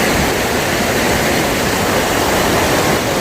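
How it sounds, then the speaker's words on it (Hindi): A large Nepalese waterfall dropping from great height roars as a loud, dense, steady wash of falling water, close and unbroken, with no voices. "अभी एक बड़ा वाटरफॉल दिखाई दिया है"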